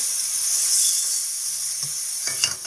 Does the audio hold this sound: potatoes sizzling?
yes